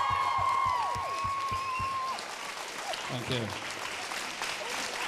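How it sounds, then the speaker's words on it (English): An audience at a school end-of-show variety performance breaks into applause, a broad wash of clapping that runs on steadily while a voice speaks briefly over it. "Let's give her a round of applause"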